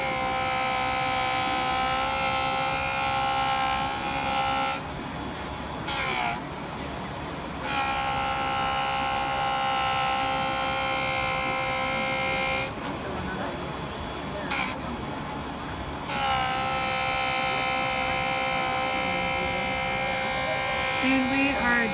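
A JOOLTOOL rotary tool polishes the lip of a silver bezel, giving a steady high-pitched whine that runs in long stretches with brief pauses between passes.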